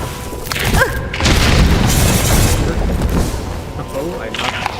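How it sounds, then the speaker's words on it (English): A boom from an explosion in the video game Hollow Knight: Silksong, loud and sustained with crashing debris, layered under game music and effects. "Oh, I destroyed one of them with the explosion."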